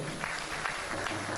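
Audience applause for the President at a public address, a steady, dense wash of clapping from a crowd that holds evenly throughout the short stretch.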